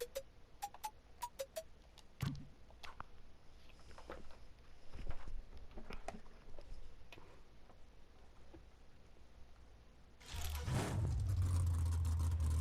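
In Lego 2K Drive, a V8 dragster with massive golden exhaust pipes idles over scattered light ticking clicks. A loud, steady engine roar then kicks in for the last couple of seconds.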